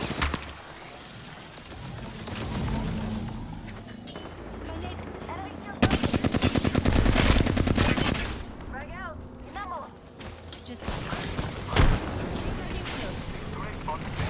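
Gunfire in the shooter game Apex Legends: scattered shots build into a rapid, dense burst of automatic fire, then trail off into further sporadic shots, fairly loud and close.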